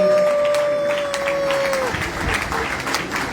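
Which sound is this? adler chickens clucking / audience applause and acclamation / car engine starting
audience applause and acclamation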